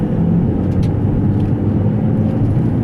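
Manual car pulling away in second gear, its engine giving a steady, loud low drone with a faint rising tone, close and unbroken throughout with no voices.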